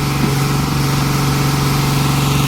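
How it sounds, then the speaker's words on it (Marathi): A concrete pump running on a grade-slab concreting job at a construction site, giving a loud, steady, droning engine hum with a constant low tone and no breaks. "आता मटेरियल पडायला चालू झालेलं आहे. पंप चालू केलेला आहे."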